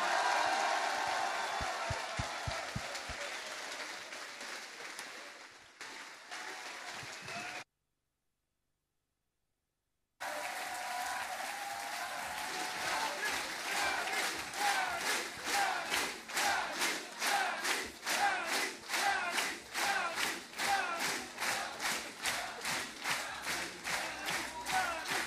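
A political rally audience cheers and applauds for Yanis Varoufakis, a loud crowd roar that breaks off into a brief silence, then returns as rhythmic chanting and clapping in steady pulses, with shouts rising throughout.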